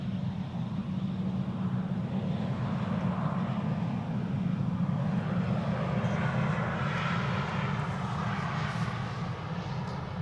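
Airliner engines roar as aircraft arrive at Amsterdam Schiphol Airport on a sunny winter day, a steady, fairly distant drone with a broad low rumble and faint higher whine, continuous throughout with no talking.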